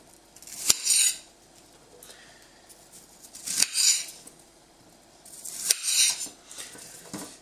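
A TopChefdeFrance ceramic knife slices through food on a cutting board, three separate crisp cutting strokes spaced a few seconds apart against a quiet background.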